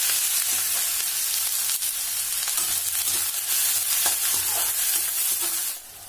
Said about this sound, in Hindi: तेल गरम हो गया है, अब इसमें थोड़ा सा जीरा, थोड़ा सा राई और ये चॉप किया हुआ